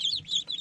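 Newly unboxed hatchery ducklings peep in a rapid, high, continuous chorus of thin chirps, close and fairly loud, with no talk over them.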